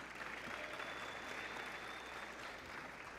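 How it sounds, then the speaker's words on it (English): Faint, distant audience applause at a high school sports awards event, a steady wash of clapping heard from far away. "Let's give a round of applause to Super Sports Management"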